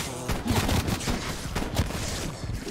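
Rapid gunfire cracks out in a Call of Duty Cold War zombie game mode, several shots in quick succession, loud and close, with game noise beneath them.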